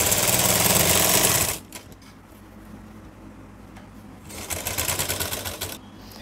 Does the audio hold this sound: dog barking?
no